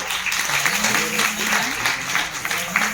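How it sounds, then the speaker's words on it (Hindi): Applause from an audience at a Chhattisgarhi folk culture program at a college in Raipur, a steady wash of clapping throughout with a voice speaking over it. "जोरदार तालियां।"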